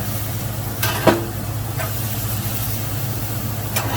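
Flat iron steaks sizzle steadily on a grill, a constant frying hiss with a low hum beneath, broken by a few sharp clanks and scrapes as the meat is flipped.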